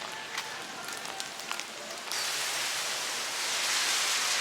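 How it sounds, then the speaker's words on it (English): Steady rain falls in Hilo, Hawaii, a dense even hiss with a few scattered drips and taps early on, then a fuller, heavier wash of rainfall that holds constant to the end. "the rain is not stopping anytime soon that I can foresee"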